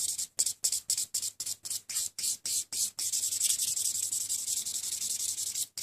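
A buffer block rubs a fingernail in about a dozen quick, evenly spaced strokes, then settles into continuous close, soft scrubbing with no talk.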